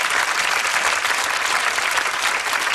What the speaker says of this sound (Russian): Под ваши аплодисменты предновогодний случай на телевидении.